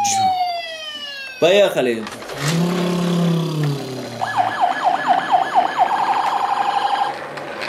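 A toy police car siren escorting other toys sounds in a fast electronic warble that rises and falls repeatedly. It follows sweeping tones and a brief spoken word, loud and close.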